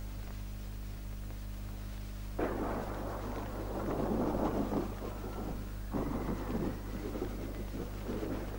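A thunderstorm rolls through, with two heavy bursts of thunder and rushing rain breaking over a steady low hum, each rumble swelling and lingering for a few seconds.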